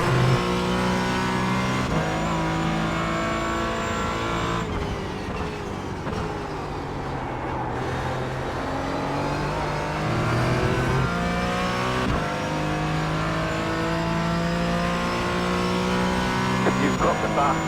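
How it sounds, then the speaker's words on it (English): A Porsche Cayman GT4 laps Oulton Park in the iRacing simulator, its engine revving steadily with continuous rising and falling pitch through gear changes, loud and close throughout with no gaps. "That was the full speed lap of Oulton Park in the Porsche GT4."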